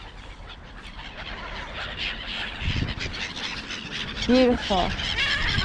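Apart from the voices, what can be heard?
birds being fed, geese honking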